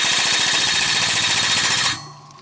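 A VEVOR 20-ton air-over-hydraulic jack, air powered from a regulator set at 130 on a 1/4 inch air line, raising a vehicle: rapid loud mechanical pumping chatter that runs steadily, then cuts off abruptly, leaving a faint hiss.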